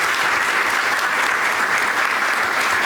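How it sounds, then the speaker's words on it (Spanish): Audience applause at a forum event, a continuous, even roar of many hands clapping at steady loudness throughout, with no voices standing out. "para quien pido un fuerte aplauso"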